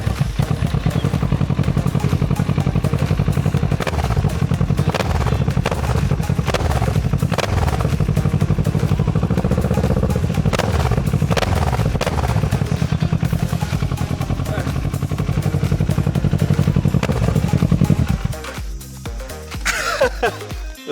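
A Kawasaki ER6n motorcycle with a Two Brothers exhaust runs close and loud, giving a steady throbbing rumble that shifts near the end as the engine note changes.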